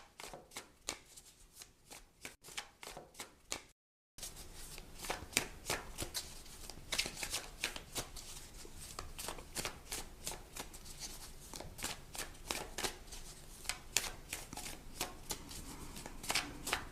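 Tarot and oracle cards are shuffled close up in a rapid stream of crisp riffling flutters and taps, broken by a brief pause before the shuffling resumes steadily.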